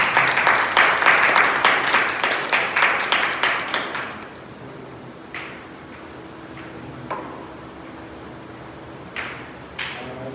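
Applause for Toastmaster Piyush at a Toastmasters club meeting, a dense burst of clapping that thins out after about four seconds, leaving scattered isolated claps and light room noise.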